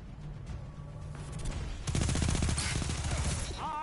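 SMG gunfire in Destiny 2 rattles in a rapid sustained burst, close and loud, with game sounds around it.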